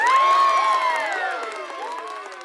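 Neighbors cheering out in the road, a crowd of voices whooping and shouting with bright rising and falling cries, loud at first and slowly fading.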